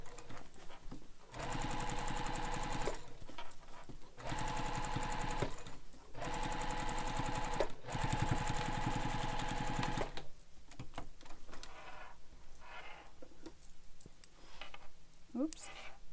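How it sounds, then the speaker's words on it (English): A sewing machine stitches across a fabric bag with lining in long continuous bursts separated by short pauses, loud and close, then gives way to quieter handling noises. "And just sew all the way across."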